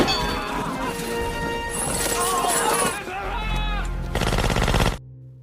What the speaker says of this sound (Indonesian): Topper dengan senjata serbunya membabat habis para tentara Irak